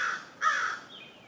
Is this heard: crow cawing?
yes